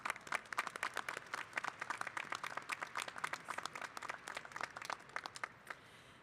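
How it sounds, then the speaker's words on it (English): An audience at a university commencement ceremony claps steadily and fairly far off, a dense, even patter of many hands sustained throughout before easing at the end. "Please give them a round of applause."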